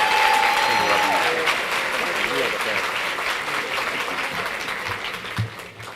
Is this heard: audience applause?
yes